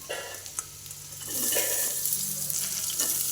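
Green chillies and dried red chillies with onion hit hot oil, a sizzle that swells into a louder, continuous frying hiss with a few scraping stirs.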